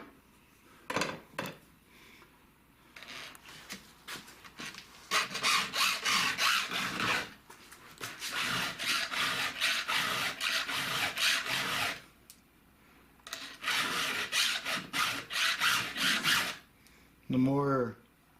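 A saw chain being hand-filed gives repeated rasping strokes in bursts of several passes, close and fairly loud, with short pauses between sets and a brief vocal sound near the end.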